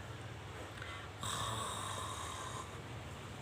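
An imitated snore: a steady, raspy snoring drone with a rougher, louder stretch starting about a third of the way in, continuing alone with no talk.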